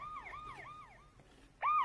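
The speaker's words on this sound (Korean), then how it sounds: "사다리 소방차도 뒤따라 출동했어." Ladder fire truck siren from a children's storybook, a wailing up-and-down tone repeating several times, briefly pausing, then returning louder and closer near the end, with no talking.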